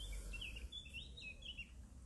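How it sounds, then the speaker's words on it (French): Birds chirp and sing outdoors, a series of short high calls repeating over about two seconds, fairly faint above a low steady background rumble, with no talking. "On est accompagné du chant des oiseaux,"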